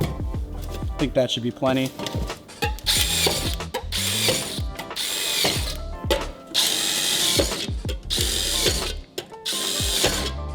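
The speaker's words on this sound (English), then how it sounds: "you're gonna end up punching little holes in the bottom of these cans" Drainage holes punched through the bottoms of metal paint cans by hand, heard as repeated close ratcheting, clanking and metallic scraping in uneven bursts, with someone talking briefly over it.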